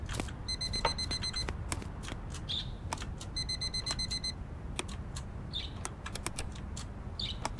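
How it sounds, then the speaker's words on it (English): An alarm in the video game Blind Touch beeps in two short rapid chirping bursts of high electronic tones over a dense background of clicks and ambient noise. "Alarm heard."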